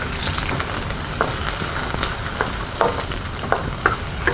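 Onion hits very hot oil in a wok with a loud, dense, constant sizzle, plus occasional light taps and scrapes from stirring.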